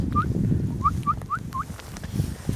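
Geese honk outdoors in a series of short, rising calls, about five in quick succession, set against steady wind and background rumble.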